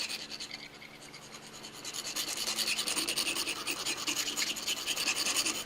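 A hand file rasps burrs off a roughly shaped metal brooch piece in steady back-and-forth strokes, close and fairly loud, growing more vigorous partway through.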